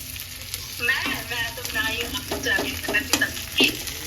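Onion frying in a pan with ginger, garlic and chili in a home kitchen, a steady sizzle with a spoon stirring and scraping, loud and close, with some background voices.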